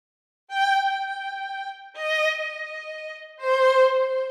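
Sampled orchestral strings play forte-piano notes crossfading into tremolo, three held tones each starting with an accent, then settling and shimmering, heard clean and alone after a brief silence.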